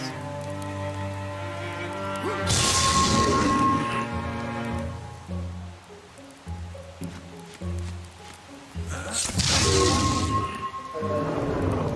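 Rain of fire spell effect in the video game Wildermyth: two heavy rumbling bursts of crackling, rain-like fiery impact over sustained musical tones, loud and alone without talk.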